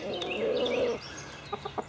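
Backyard chickens nearby, a brief clucking and squawking burst at first, then a few short soft clucks after a pause, close and moderately loud with no speech.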